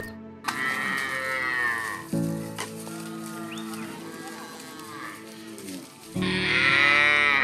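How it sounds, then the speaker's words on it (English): Several cattle in a Maasai herd moo in long, drawn-out calls, one after another, loud and close, with a brief pause before a final strong moo. "Proud mama of 60 plus cows."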